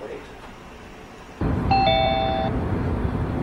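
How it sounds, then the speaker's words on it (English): A home doorbell sounds a clear two-tone electronic chime over steady background noise, ringing once for about a second, with a voice speaking at low level throughout. "When the doorbell rings, a camera sends an image to the terminals throughout the home."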